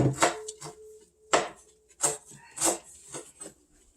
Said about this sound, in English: chopping away